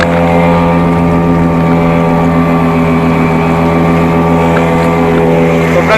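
A motorboat engine on a rented wooden river bangka drones loud and close, a steady unbroken hum with strong low tones that holds the same pitch throughout.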